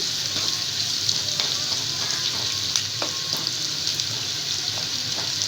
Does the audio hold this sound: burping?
no